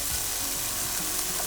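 Cleaned, finely chopped button mushrooms saute with garlic in a hot pan, giving a steady, close, dense sizzle and crackle that holds without a break and with no voices.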